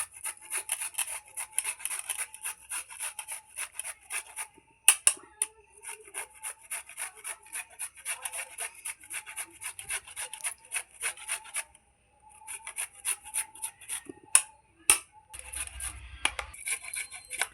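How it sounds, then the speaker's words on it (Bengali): A peeled carrot is rubbed against a grater in quick, repeated rasping strokes, close and fairly loud, with a couple of short pauses and a few sharp knocks. "গাজরটা ঘষে নিচ্ছি আমি।"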